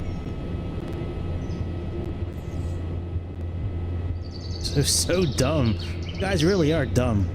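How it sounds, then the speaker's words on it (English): Bird calls in Microsoft Flight Simulator 2024 at an airport beside a Piaggio P180 Avanti, chirps and warbling phrases rising over a steady engine drone, with people talking. "You hear that bird again?"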